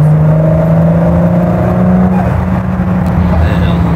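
A Ford GT accelerating hard in sport mode with its turbos, a loud, close engine roar that builds and holds, with people talking over it.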